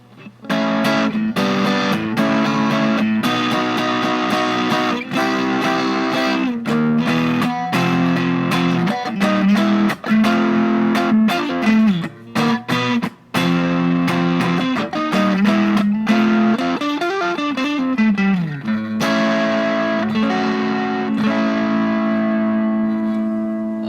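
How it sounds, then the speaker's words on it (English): Electric guitar with neck and middle pickups through a Maxon TOD9 overdrive pedal with its tube signal blended in, warm, moderately gritty chords and riffs with some reverb, played close and loud with no talking. "So you guys can see that it's the sound of the tube signal being added."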